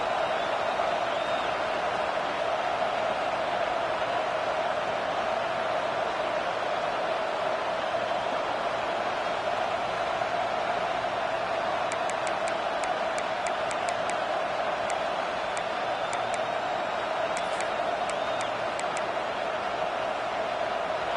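A big American football stadium crowd roars in a constant, loud wash of noise that holds steady throughout, with faint whistles and cheers inside it.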